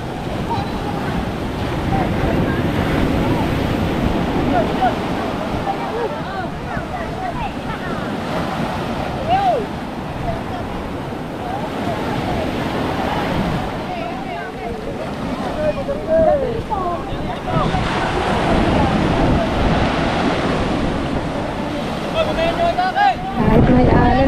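Ocean waves wash steadily around a fishing boat at sea, with gusty wind buffeting the microphone, and people talk faintly over the surf.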